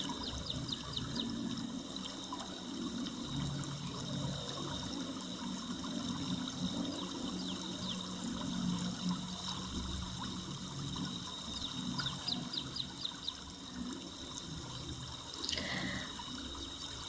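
River water flows gently past a bank lined with large trees, a soft, continuous trickling wash heard at low level, with faint bird chirps above it.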